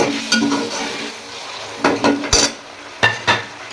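Chicken frying and being stirred in a pot, with a continuous sizzle broken by repeated metallic scrapes and clinks of a spoon against the pot, close and loud, no talking.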